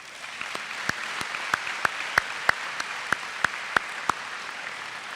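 Applause at an upper school awards ceremony for book club students, a quiet, sparse clapping spread out across the room with a few distinct, regularly spaced louder claps standing out near the front.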